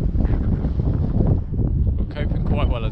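Steady wind buffeting a microphone during a windy maiden flight of an AtomRC Swordfish RC plane, a dense low rumble throughout with a faint high whine coming in near the end.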